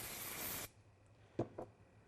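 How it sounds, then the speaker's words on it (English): A can of spray glue lets out one steady, close hiss lasting under a second, followed by a quiet room and two faint soft knocks. "Let's give him another spray"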